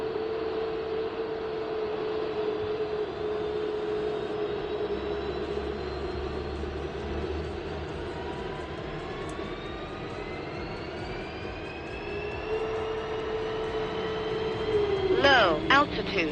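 A jet engine spools up in a flight simulator game, a steady turbine whine rising gradually in pitch over about fifteen seconds, moderately quiet, with a brief burst of other noise near the end.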